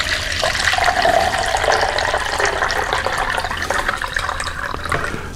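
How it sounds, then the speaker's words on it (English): Water pours steadily from a tap into a pot to dissolve white sugar for lemoncello syrup, a continuous close gushing splash with no talking. "let me put some water in here"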